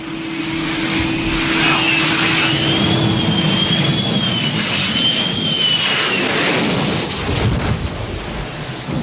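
A jet aircraft roars loudly and steadily as it comes in to land on an aircraft carrier deck, with a high whine riding over the broad engine rush.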